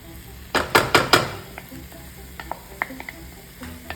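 Tomato puree sizzles in a hot pan for butter chicken, starting with a few sharp spatters, then a softer crackle and scattered pops as the pan quiets down. Nobody speaks.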